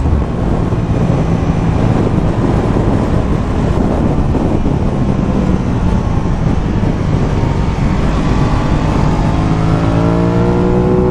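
A ridden Aprilia RS660 motorcycle engine held at high revs, a loud continuous roar heavily buffeted by wind rush, no voices.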